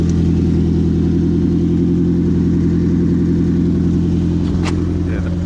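An old Ford left unstarted for 40 years runs with a blown exhaust back box, producing a loud, steady, throbbing engine rumble close by.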